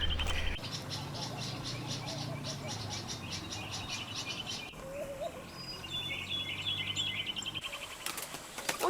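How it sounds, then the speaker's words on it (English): Pigeons chirping and calling nearby as they fight, with bursts of wing flapping and scuffling, a constant background hum underneath. "now the pigeons are fighting."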